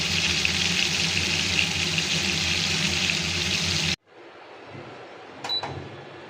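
Hilsa fish fries in oil with a loud, steady sizzle that cuts off abruptly, followed by quieter kitchen clinks.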